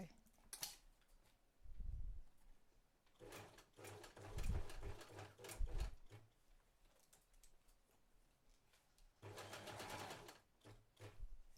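A domestic sewing machine sews denim jeans in several bursts of rapid stitching, with pauses between runs, heard fairly close and moderately loud.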